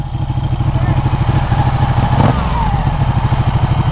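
A Ducati motorcycle engine runs close by with a steady, throbbing pulse and one brief rev near the middle. Faint voices sit under the engine noise.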